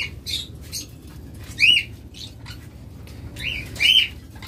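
A caged pair of lovebirds gives two loud, harsh squawks among quicker, fainter chirps, close by and with no talking.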